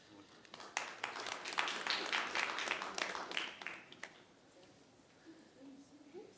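Audience applause at a gathering in a French-speaking setting, a burst of clapping for about three seconds that fades, with voices talking over and after it.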